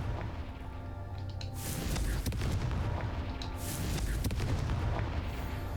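The Confringo explosive spell from Hogwarts Legacy goes off as a few booming blasts with a crackling burst, loud and close, over continuous rumbling game noise.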